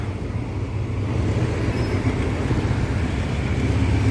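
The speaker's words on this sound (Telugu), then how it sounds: "అప్పుడే వెళ్ళిపోతుంది అనమాట ట్రైన్" A steady, heavy rumble of a local train departing Pattaya station in Thailand, close by, building slightly in loudness, with no speech over it.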